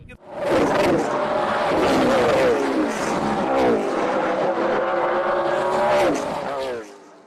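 Race cars at full speed on Dells Raceway Park short track during the Dairyland 100, a loud continuous roar of several engines with rising and falling pitch as the pack goes by, over a race announcer talking.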